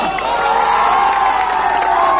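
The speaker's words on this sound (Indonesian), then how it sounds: "Tepuk tangan yang mulia." At a bull-racing prize ceremony, a big outdoor crowd cheers and shouts loudly and continuously, a dense roar of voices with clapping mixed in.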